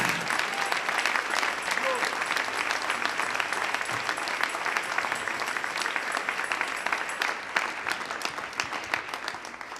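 A church congregation applauds during a Sunday morning service, a steady, dense wash of hand claps sustained for the full stretch with no pauses.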